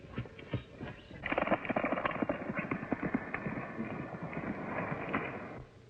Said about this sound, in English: The fastest horse I've ever seen.